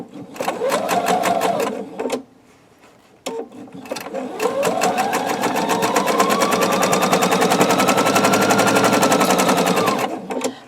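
Sewing machine stitching pinwheel quilt block pieces: a short fast burst of rapid needle clatter, a pause, then a longer steady run whose motor pitch rises and holds, close and clear.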